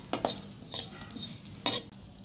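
A spoon scrapes and stirs dried fish (shutki) in a pan, a few sharp metallic scrapes and knocks over a faint background hiss.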